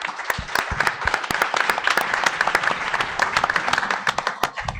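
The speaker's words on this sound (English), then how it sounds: "let's give Entrada a round of applause" A crowd applauds steadily, many hands clapping in a dense, lively burst that carries on throughout.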